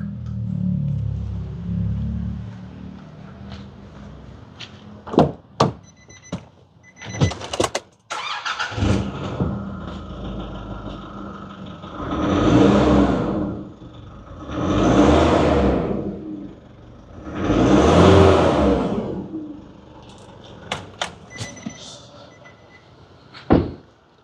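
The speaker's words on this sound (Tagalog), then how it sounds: "HKS exhaust system. Carbon tip. We'll do sound check." Nissan Navara Calibre pickup with a cutback HKS exhaust and carbon tip, starting with clunks and short bursts, then three loud rising-and-falling revs close by, followed by a few clicks and door-like knocks.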